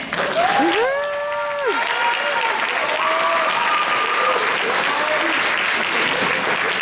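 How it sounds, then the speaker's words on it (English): An audience at a nursing graduation pinning ceremony applauds steadily and loudly throughout, with a voice calling out briefly near the start over the clapping. "give yourselves a big round of applause because we made it"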